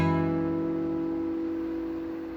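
Guitar open string ringing, followed by three strings plucked together at once; the chord sustains steadily and decays slowly over a couple of seconds, close and clear with no talking.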